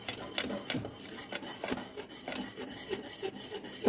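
Jowar flour being stirred quickly into hot water in a pot for papad dough gives soft, rapid scraping and rubbing strokes in an irregular rhythm, quiet and close, with no talking.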